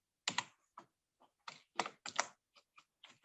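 Quick keystrokes tapped on a computer keyboard, close and clear, arriving in short irregular bursts and single clicks with brief pauses between, no voices over them.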